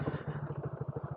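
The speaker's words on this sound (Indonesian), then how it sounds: "Motor bergetar." A motorcycle engine runs close by while riding across a bridge in heavy rain, giving a steady low pulsing rumble with rapid regular vibration beats throughout.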